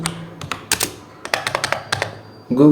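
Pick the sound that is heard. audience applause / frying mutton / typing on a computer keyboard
typing on a computer keyboard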